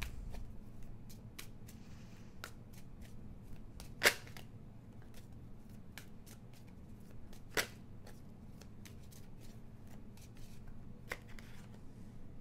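A deck of cards riffles and shuffles steadily up close for about twelve seconds, with a couple of sharper snaps as cards slap together midway and no talking.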